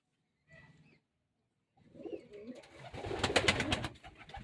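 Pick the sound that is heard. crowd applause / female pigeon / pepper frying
female pigeon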